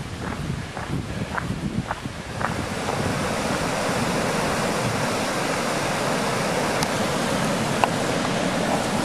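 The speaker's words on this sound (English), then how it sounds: "I came down the hill and there's that waterfall, and it is just absolutely beautiful." A waterfall along Pennsylvania's West Rim Trail roars as a steady, broad rush of falling water, loud and continuous, with a few footsteps crunching in the first seconds before it settles into an even wash.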